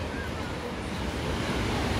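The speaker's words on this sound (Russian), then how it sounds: "Ой, шум моря." Caspian Sea surf washes steadily onto the shore, a continuous broad rushing roar with some wind buffeting, no voices.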